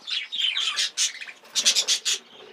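Texas clearbody budgerigars chirp and squawk in a breeding colony aviary, with close, loud, rapid bursts of high warbling calls and no voices.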